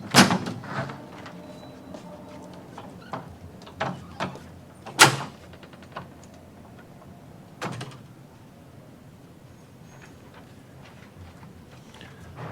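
A door at a public works building is pushed open with a loud clunk, followed by further knocks and rattles that fade in the background, with no talk.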